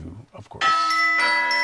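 Church bells in a music production, a bright sustained ringing chime entering loudly after a short spoken phrase and holding with a second strike.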